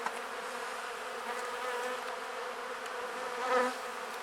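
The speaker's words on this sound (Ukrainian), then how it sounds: "ось є бджолки, які будуть виходити" Honey bees hum steadily at a hive in late March, a continuous close buzzing drone with one bee passing louder near the microphone toward the end.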